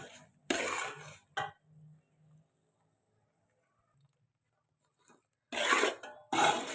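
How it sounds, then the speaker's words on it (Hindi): A spoon scrapes and rasps through besan (gram flour) roasting in a pan for chana daal barfi, in short bursts of stirring separated by a long quiet pause, then resuming strongly near the end. "इसे भी हम मुसलसल चम्मच चलाते हुए इसी तरह इसकी भुनाई करेंगे"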